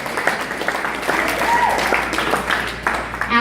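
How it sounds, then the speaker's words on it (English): Guests applauding during a maid of honor's wedding speech, a steady wash of clapping from a room full of people, fairly close and even throughout, with faint voices and a brief cheer. "You can clap."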